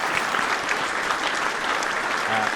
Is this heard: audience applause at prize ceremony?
yes